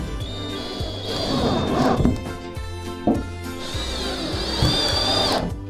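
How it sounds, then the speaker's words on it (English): A power drill drives screws through a fishing rod holder into the supporting beams of a wall in a homemade floating house, two long whirring runs with knocks and pauses between, close and loud. "We decided to attach it with screws to the back wall, to the two supporting beams of the frame."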